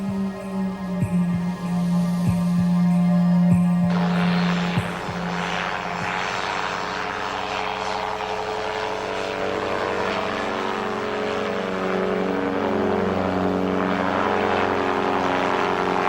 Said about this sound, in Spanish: Utilizando un pequeño motor delta con forma de cóndor, nos elevamos sobre Sacsayhuaman para mirarlo desde el aire